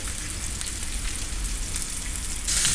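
A short rib sears over high heat in a hot pan, giving a steady, dense sizzle that hisses close and loud throughout and brightens slightly at the very end, with no talking.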